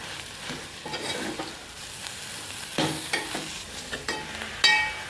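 Mashed boiled potatoes being stirred and mixed in a pan on the stove while cooking bread pakora filling, with soft scraping and light sizzling and a few sharper clinks of the spoon against the pan.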